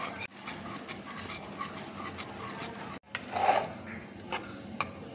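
Grated coconut being stirred in a pan for homemade laddu: soft scraping and rubbing of a spoon against the pan over a low sizzle, with a couple of brief pauses and a slightly louder scrape near the end.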